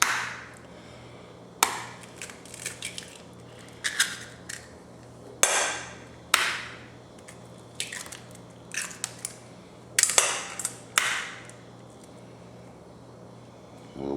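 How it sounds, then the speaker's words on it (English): Eggs are cracked against a container edge for an egg wash, a series of close, sharp taps and cracking snaps spaced irregularly, with quiet shell crunching and handling noise between them. "watch as you're cracking your eggs that you don't get any shells"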